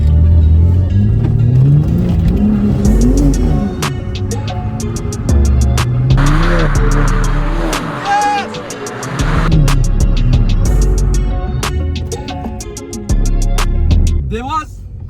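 A rebuilt BMW G80 M3 engine revs hard through a drift, rising and falling with sharp bursts and pops, loud and close, with people talking over it now and then.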